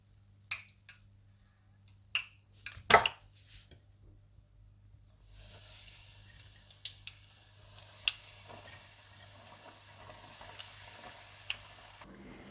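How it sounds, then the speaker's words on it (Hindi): Chilies frying in hot oil for peri peri bites, a steady bright sizzle that starts partway through and carries on. Sharp clicks and taps from handling come before and during it. "इसी तरह से आप बाकी सारी मिर्चें भी फ्राई कर लें।"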